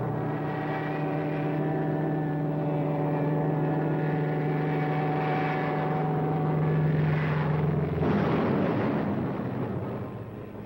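World War II P-38 fighter planes dive bombing with 1,000-pound bombs under the wings: a loud, sustained propeller-engine drone that swells, then breaks into a rough, explosive roar near the end.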